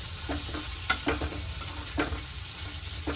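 Paneer fries in a pan under a soft continuous sizzle, with occasional light scrapes and taps as the pieces are stirred, close and fairly quiet.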